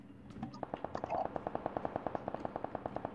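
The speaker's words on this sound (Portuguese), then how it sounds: "A bala tá comendo no centro já." Automatic gunfire in the video game PUBG Lite: a steady, rapid burst of roughly twenty evenly spaced shots, loud and close, preceded by a few scattered single cracks.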